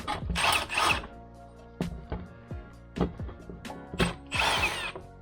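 A power drill backs out the 10 mm bolts holding the bumper and plastic skid plate on a 5th Gen 4Runner, sounding as a series of short, loud whirring bursts with clicks and pauses between them.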